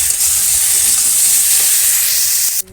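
Vegetables with spices, ginger and chili paste fry in a pan after water is added, a loud close steady hiss of sizzling that cuts off abruptly near the end.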